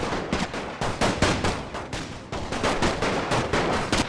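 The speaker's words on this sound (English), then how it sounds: "Okay, they are firing back over there." Dense gunfire in the World War I video game The Great War 6.0, rapid overlapping rifle and machine-gun shots popping continuously in a crackling volley.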